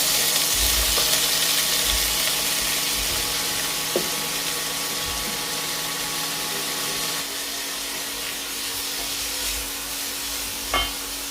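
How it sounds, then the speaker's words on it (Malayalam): Steady sizzling and crackling of tapioca sautéing in hot coconut oil, with occasional soft stirring knocks, continuous and fairly close, no voices. "വെളിച്ചെണ്ണ ചൂടായിട്ടുണ്ട് അതിലേക്ക് കപ്പ ഇട്ടൊന്ന് വഴറ്റിയെടുക്കണം"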